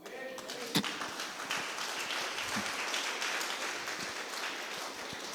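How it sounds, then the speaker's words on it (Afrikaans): An audience claps steadily at a church testimony gathering, a dense, even wash of applause lasting several seconds with one sharper clap near the start. "Kom ek gee die Here 'n klap"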